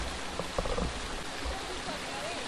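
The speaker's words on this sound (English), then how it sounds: "So we're at a little mini waterfall." Small cascading waterfall at Aira Force near Penrith, a steady close rushing wash of falling water with faint scattered sounds on top.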